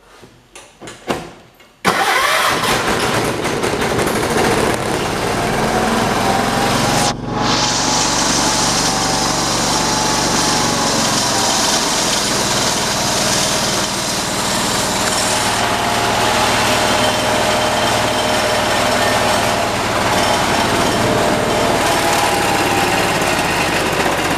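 A John Deere 212 garden tractor engine cranks and catches, then idles steadily and loudly for a long stretch, with its pitch shifting slightly during adjustment.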